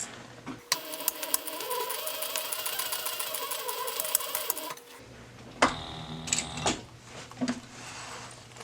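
A sewing machine stitches across fabric in a rapid, steady mechanical whir lasting several seconds, then stops, followed by scattered clicks and handling noises.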